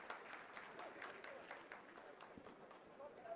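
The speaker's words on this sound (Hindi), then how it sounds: "आप इस तालियों के गड़गड़ाहट को सुन सकते हैं जो कि सेकंड हाइब्रिड फेज के कंप्लीट होने के बाद इन सारे वैज्ञानिकों के" Scientists in a mission control room applaud during the Chandrayaan-3 lunar landing, producing faint, rapid, scattered clapping that continues steadily at a distance.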